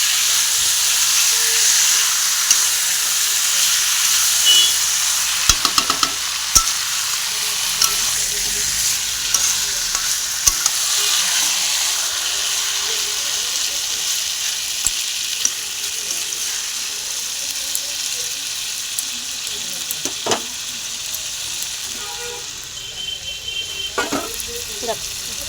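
Chicken stirred and fried with spice masala in a pan: a loud continuous sizzle broken by repeated scraping and clattering stirs, steady throughout, with no talk.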